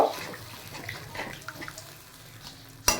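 Water is poured into a cooking pot of spiced chicken curry, a soft, fairly faint splashing and trickling up close, ending with a brief sharp clink.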